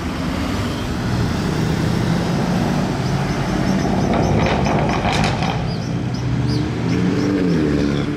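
A Mercedes C63 with an aftermarket exhaust rumbles loudly and continuously through the streets of Monaco, its engine roar mixed with dense surrounding traffic and city noise.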